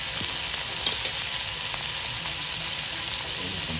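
Squid fries in olive oil in a pan, a loud, dense, close sizzle crackling steadily and unbroken, with faint stirring ticks.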